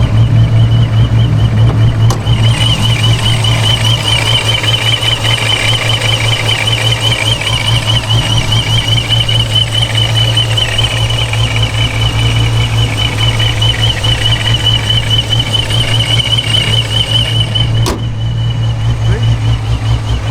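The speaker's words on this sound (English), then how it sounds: "you can barely hear the blower with the hood closed, or at least you don't hear the super whine" A supercharged 426 Hemi idles with the hood closed, a loud, steady, deep rumble with a faint wavering blower whine riding above it, and a couple of brief clicks.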